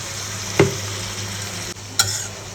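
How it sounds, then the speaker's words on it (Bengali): Chicken and vegetable roll filling, seasoned with cumin, soy sauce and chilli powder, fries in a pan with a steady close sizzle, while a spoon stirs it twice with brief scraping clicks. "তো এখন আমি সুন্দর করে নাড়াচাড়া করে নেব।"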